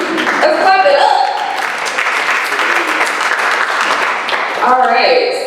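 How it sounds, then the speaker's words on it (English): Applause from a seated audience at a public meeting in a museum in Annapolis, steady clapping throughout, with some voices and tonal sounds mixed in at the start and end. "Let's clap it up"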